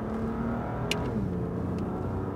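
A BMW M2 Competition accelerates on a race circuit, its engine droning steadily at mid pitch from inside the car, with faint whirring and no talk.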